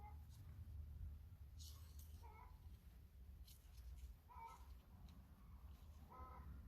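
Chickens cluck and squawk in the background in several short, distant bursts spread over a low steady hum, with no talk over them.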